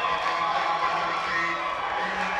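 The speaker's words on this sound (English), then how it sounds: "Listen to this crowd." Basketball crowd at a men's college final between Tohono and Phoenix College, loud sustained cheering and whooping filling the gym during team introductions, a dense continuous roar.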